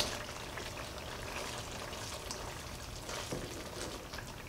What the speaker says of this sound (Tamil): குழம்பு நல்லா கொதிக்க ஆரம்பிச்சிடுச்சு